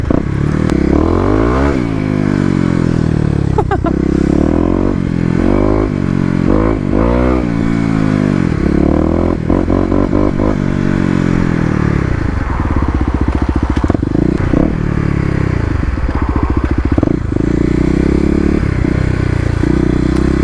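Kawasaki KLX250 dual-sport motorcycle doing burnouts on wet leaves and dirt in a parking lot, its single-cylinder engine loud and close, revving up and down repeatedly with rising and falling pitch and tire scrabbling throughout.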